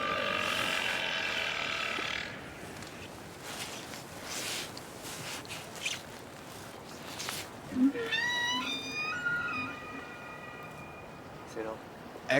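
Whale calls picked up by a hydrophone lowered into calm Antarctic sea, with long rising and falling tonal whistles and squeals, some in stacked harmonic sweeps, rising over a steady underwater hiss, fairly faint, with people talking at times.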